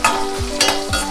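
Small shallots frying in a pan for Chettinad mutton uppu kari, a close, continuous sizzle with a few quick stirring strokes at regular intervals.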